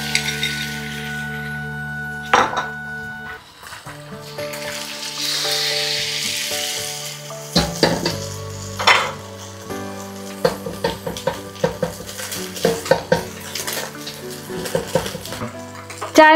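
An egg sizzles in butter in a pan while fried rice is prepared for a Chinese dish, a loud close frying hiss broken by clinks and scrapes of utensils against the pan.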